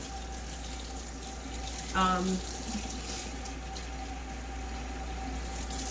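A kitchen tap runs steadily, a constant close hiss of flowing water, while a spicy tomato marinade for Honduran tamales is prepared. A single spoken word briefly breaks in.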